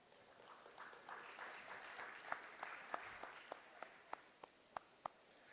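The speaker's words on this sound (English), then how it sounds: "And I think you deserve a round of applause." Audience applause at the Haiti Tech Summit 2019: a faint, distant wash of many hands clapping that thins out into a few sharper, spaced single claps near the end.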